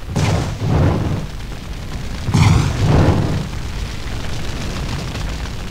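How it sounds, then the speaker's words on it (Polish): Deep, rumbling booms from a Max Payne game battle, two heavy blasts rolling out over a constant low roar of fire and debris. "Te pożary, te wybuchy"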